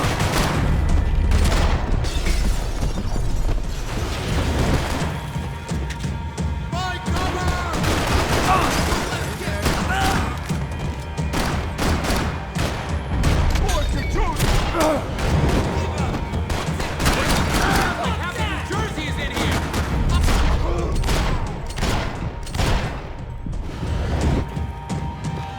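Repeated loud gunfire in the Max Payne 3 video game, with rapid bursts, single shots and occasional booms and crashes running throughout, and brief voices in between.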